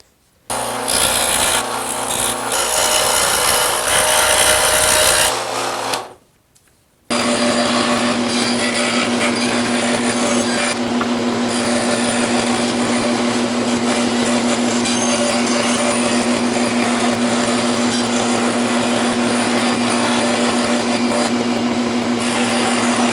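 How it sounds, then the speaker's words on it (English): Scroll saw cutting a slot in hardboard, a steady buzzing rasp with a strong motor hum that starts, stops briefly for about a second, then runs on continuously and loud. "I'm now going to continue cutting out the rest of this groove or slot with the scroll saw."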